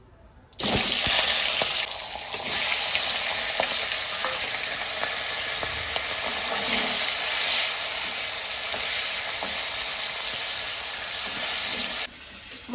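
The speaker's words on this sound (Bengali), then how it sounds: "আমার মাছ ভাজা হয়ে গেছে" Magur fish heads fry in oil in a kadai, with a loud continuous hissing sizzle that starts abruptly, holds steady with faint stirring clicks, and drops sharply near the end.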